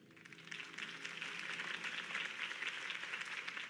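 A crowd in the Batman: The Telltale Series video game applauds after a campaign speech, a sustained wash of clapping heard at a distance, fairly faint and even throughout.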